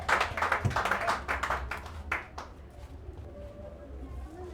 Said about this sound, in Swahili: Nataka kusikia shangwe na vigelegele tunapokaribisha pastor ili alete neno la Bwana.